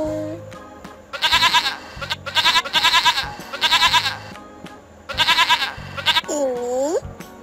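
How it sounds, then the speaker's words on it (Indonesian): A goat bleats repeatedly in loud wavering calls, several separate bursts in a row, up close, between brief quiet gaps and ending in a rising-falling cry. "Ini kambing."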